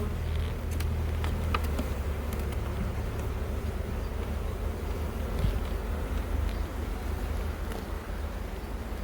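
Honeybees buzzing loudly as a hive is opened during a queen check, a dense continuous hum of many bees close to the microphone with a few individual bees flying past.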